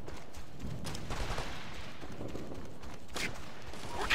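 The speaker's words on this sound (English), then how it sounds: "We're taking heavy fire here!" Heavy gunfire crackles in bursts of rifle and machine-gun shots during a firefight in Operation Flashpoint: Red River. The shots are fairly distant and scattered, with a sharper burst near the end.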